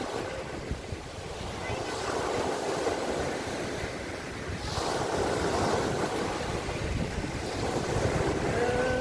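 Evening sea waves washing onto the shore with gusting wind buffeting the microphone, a steady rushing wash that swells midway, with no talking.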